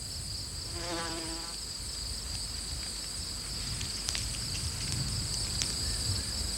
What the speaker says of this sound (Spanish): Otra excavadora es la avispa.